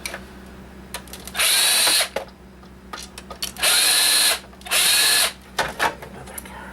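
A power screwdriver backs out the small screws holding the hard drive of an original Xbox: three loud, steady whirring bursts of about a second each, with small clicks and handling noises between them and no talk.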